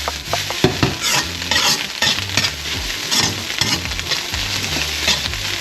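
Fried rice gets tossed around a hot stir-fry pan, loud continuous sizzling punctuated by repeated scraping and clattering strokes of the spatula, close and busy throughout.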